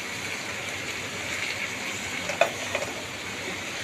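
Vegetables stir-frying in a pan for Chinese rice give a steady, even sizzle throughout, with a couple of brief clinks near the end and no talk.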